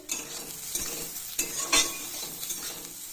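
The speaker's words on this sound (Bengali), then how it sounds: "সোয়াবিনটা এখানে ভাজা হচ্ছে" Soybean chunks fry in a pan for a vegetarian pumpkin and potato dish, giving a steady close sizzle with a few sharper bursts of spattering and stirring.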